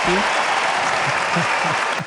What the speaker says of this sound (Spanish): así que también acá otros aplausos, júbilo